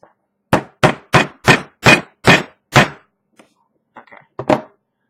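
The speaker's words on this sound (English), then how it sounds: "and hammer it in." A nail is hammered into the base of a homemade coil jig, a quick steady run of about eight loud close blows, followed by a pause and a few lighter taps ending in one firmer strike.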